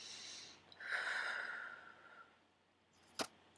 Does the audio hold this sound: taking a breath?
yes